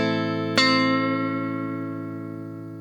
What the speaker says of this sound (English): Listen how it sounds when I bend the minor third.